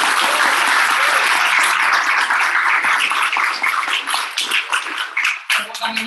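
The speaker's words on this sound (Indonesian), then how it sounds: "Kita tes dulu, tepuk tangan dulu yang sangat meriah." A public lecture audience gives loud, dense, sustained applause that carries on for several seconds before thinning toward the end.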